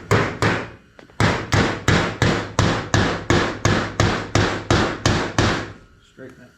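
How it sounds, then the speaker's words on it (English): Heavy hammer blows on a metal tab to straighten it back out on a MANCO machine during a starter install, about fourteen loud, evenly spaced ringing strikes close up, with a short pause after the first two. "Take the hammer here."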